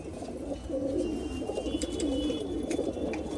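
About a hundred pigeons in a loft coo steadily in a low, warbling chorus, several birds overlapping close by, with faint higher chirps now and then.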